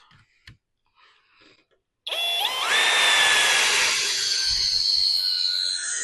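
A Sturmax 20V cordless screwdriver drives a 200 mm screw into wood, its motor whining loud and close for several seconds with a rising pitch and a slight clicking under it, after brief quiet handling noises.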